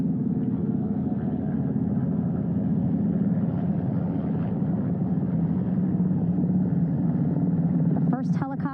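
Helicopters hover over a ship's flight deck close by during Artemis II crew recovery at sea, their steady loud rotor and engine rumble continuous throughout, heard from the bow, with a brief voice near the end.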